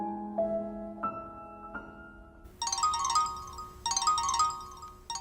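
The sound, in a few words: mobile phone ringing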